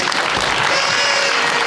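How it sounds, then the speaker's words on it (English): A crowd applauds the performing acts at an anniversary celebration night, a loud, close burst of many hands clapping that sustains evenly across the short moment. "Big round of applause for the acts."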